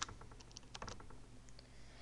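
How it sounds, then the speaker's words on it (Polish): Someone types a password on a computer keyboard, a quiet run of soft key clicks with a slightly firmer press near the end, close and alone. "Jak ich napiszemy, tego nie będzie widać. I klikamy Enter musimy je ponowić."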